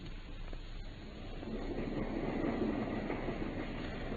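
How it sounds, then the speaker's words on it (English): A train runs along the rails in a Sherlock Holmes radio drama, a low rumbling roll that swells slightly and holds steady at moderate level, with faint rhythmic clatter and no voices. "I think we've just time to catch our train at Paddington."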